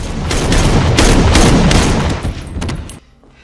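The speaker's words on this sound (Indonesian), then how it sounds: "datanglah Zoe yang berhasil menembak mati si ketua tersebut" Rapid gunfire from The Purge film, a loud dense burst of shots lasting about three seconds before cutting off abruptly.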